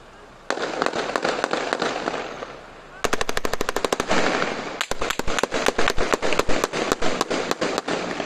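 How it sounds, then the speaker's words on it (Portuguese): Rapid bursts of loud machine gun fire during an armed bank robbery in Blumenau, several fast volleys of sharp cracks with short pauses between them, close and dominating the scene. "Ó, tiro de metralhadora."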